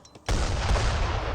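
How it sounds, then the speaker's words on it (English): A fixed gun in Age of Empires 3 comes under fire, heard as a sudden burst of loud, rumbling battle gunfire that starts abruptly after a quiet moment and carries on in a dense, booming roll. "Fixed gun now receiving quite a bit of fire there."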